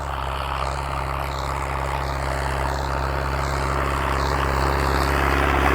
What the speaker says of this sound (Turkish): Egzoz sesini bir duyun.